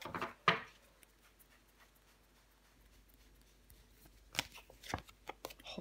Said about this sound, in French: J'en remets une avec la justice et le 4 de coupe.